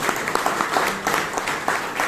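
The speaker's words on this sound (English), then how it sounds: "please give the evaluator and the speaker a huge round of applause." A room full of people at a Toastmasters meeting in Bangalore claps steadily, a dense, even patter of hands with no pause.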